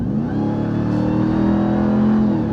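2021 Ram TRX with its 6.2-liter supercharged engine giving it gas, a loud, steady, deep engine note that climbs slightly in pitch as it accelerates, heard from inside the quiet cabin with no talk.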